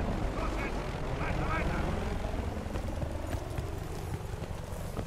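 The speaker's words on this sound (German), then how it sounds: "Okay, der Heli." A helicopter flies overhead in the Battlefield: Bad Company 2 war game, a steady rotor and engine drone layered with battle noise that stays loud and continuous throughout.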